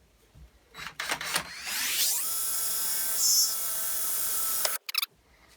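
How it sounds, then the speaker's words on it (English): A power drill bores a pilot hole during seat installation in a VW T25 van, spinning up with a rising whine and then holding a steady high drone for a few seconds before cutting off, with brief handling noises around it. "Now we can drill our pilot hole."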